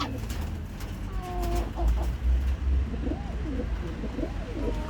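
A pigeon coos close by in repeated soft, warbling calls, with low thumps and handling noise around it and no talk.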